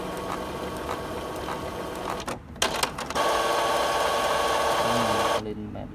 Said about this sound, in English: As you can see, the printer processing.